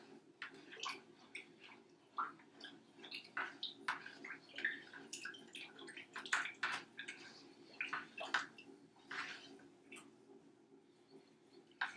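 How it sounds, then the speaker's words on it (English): Water, sourdough starter and honey are stirred together in a bowl, making faint, irregular sloshing and clinking taps close by, with no talk. "So I'll get this stirred up."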